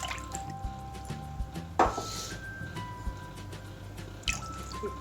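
Mango juice poured in a kitchen while making chicken legs, heard as soft liquid splashes and drips with small clinks against a container, fairly close and without talk.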